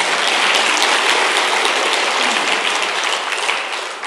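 Dense, steady applause from an audience at a political speech, a broad wash of many hands clapping at once, loud and close, holding evenly and easing off slightly near the end.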